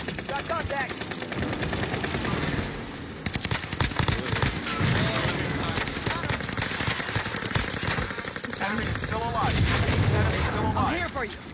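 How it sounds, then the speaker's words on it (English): Airstrike explosions in a shooter video game, heavy rolling blasts layered over continuous gunfire and rumble, loud and dense for the whole stretch, with no clear gaps between impacts. "Here's the target for airstrike. This is Phoenix 3. Strike inbound."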